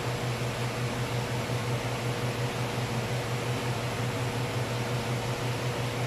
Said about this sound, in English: First, I will open oxygen needle valve full.